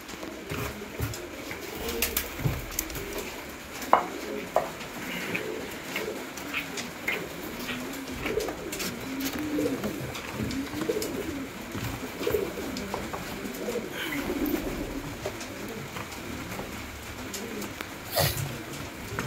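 Pigeons in a pigeon house coo continuously in soft, overlapping low calls, with scattered wing flutters and knocks against a steady background.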